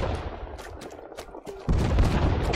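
Artillery fire support strike in the Vietnam War shooter game Rising Storm 2 Vietnam: a dense run of gunfire cracks and booms, rising into a loud, sustained rumble of impacts partway through.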